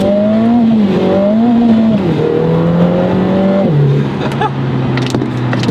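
A Lotus Emira First Edition sports car engine revs hard and climbs through the gears, loud and close, with pitch rising then dropping at each shift before settling into a steady drone.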